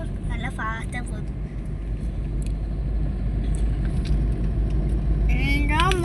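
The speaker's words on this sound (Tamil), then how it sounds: "எங்களுக்கு முன்னாடி ஒரு வண்டி போகுதுன்னு. பார்த்தீங்களா, நல்லா ஃபாஸ்ட்டாக போகுது." A fast vehicle drives ahead on the road, heard as a steady, loud engine and road rumble from inside a moving vehicle, with people talking over it throughout.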